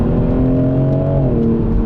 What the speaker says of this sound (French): On a un petit son à l'échappement sympa, mais il pourrait être un petit peu plus présent.